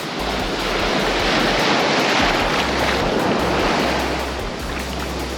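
Ocean surf rolls in steadily at Lamai Beach on Koh Samui, a broad continuous wash of breaking waves with gusts of wind buffeting the microphone, swelling slightly in the middle and with no talk.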